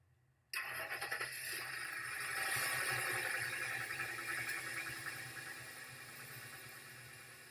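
A car engine cranks and catches abruptly, then settles into a steady, loud idle that hums on without a break.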